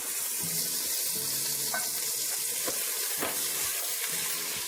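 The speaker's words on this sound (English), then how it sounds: "I'm going to take my onions and put them in the pot to saute with a little olive oil" Onions sautéing with a little olive oil in a pot, giving a steady, close sizzle and hiss throughout with a few faint clinks, no voices.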